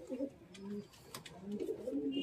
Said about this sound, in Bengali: রামপুরি কবুতর গাছ, সিঙ্গেল নর কবুতর